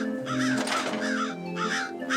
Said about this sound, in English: Crows watch him from their lookout, on top of the parking lot floodlights